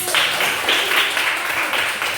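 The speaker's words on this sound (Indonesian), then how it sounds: "berikan tepuk tangan untuk anak-anak" Children in an Indonesian classroom clap together briefly and loudly, short rhythmic bursts of hands close by with a faint murmur under them.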